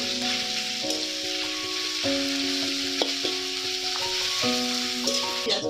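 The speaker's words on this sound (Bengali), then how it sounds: "পেঁয়াজটা লাল লাল করে একটু ভেজে নেবো" Onions fry in a pan until reddish-brown, giving a steady close hiss of sizzling oil under continuous background music.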